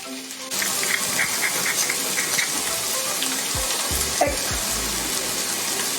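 Pressed garlic hits a hot oiled pan and bursts into a loud, steady sizzle that keeps frying close by, with a few low knocks and scrapes partway through and no talking.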